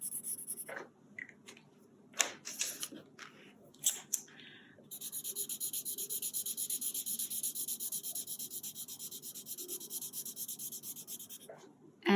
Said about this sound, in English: I'm just picking up randomly different markers and just drawing some different shapes